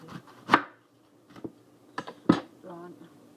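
A microwaved corn cob is sliced at the top end with a knife, giving a few sharp separate chops and knocks against a board at close range, with quiet pauses and a faint voice.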